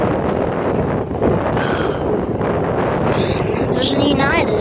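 Wind gusts at an airport during plane spotting, a loud, constant buffeting roar against the microphone that masks most other sound, with a voice talking underneath.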